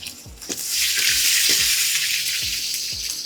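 Small onions sizzling in oil in a pan for Edappadi-style fish curry, a steady close frying hiss with repeated knocks of a spoon stirring against the pan.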